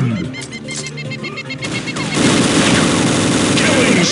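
Rapid automatic gunfire in Unreal Tournament 2004 capture-the-flag with Ballistic Weapons, starting as scattered shots and swelling after a couple of seconds into a dense, loud, continuous barrage of overlapping fire.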